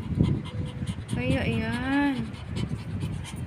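A half-Pomeranian dog pants close by in quick, rhythmic breaths, with a short whimpering whine in the middle and a person's voice faintly underneath.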